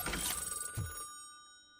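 A telephone rings in the video game RoboCop: Rogue City, giving one short, bright electronic ring burst that fades into a sustained tone.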